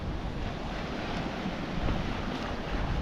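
Wind and sea wash steadily past a yacht sailing wing on wing in 10 to 15 knots, full main out and Yankee poled to port; a continuous broadband rush of surf and wind noise, close and even, with no talk.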